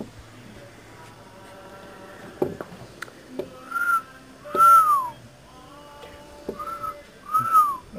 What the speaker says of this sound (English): I can't whistle very good this morning.